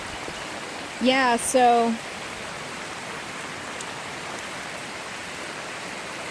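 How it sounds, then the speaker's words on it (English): Steady rain from Hurricane Lane falls as an even, close hiss, with a brief stretch of a person speaking near the start. "this is the rain so far"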